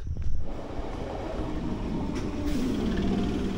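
Rumbling of a local commuter train in motion heading to Sealdah, a steady low roar with rattling carriages close by and a brief sharper clatter near the start.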